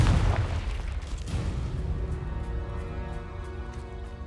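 Confringo blasting spell explosion in a Harry Potter video game, a loud close boom at the start that decays into a long rumbling tail.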